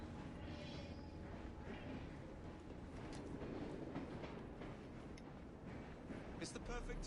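A train in the video game Assassin's Creed Syndicate, in Victorian London, rumbles along with a dense, continuous roar and faint clatter, while people talk over it.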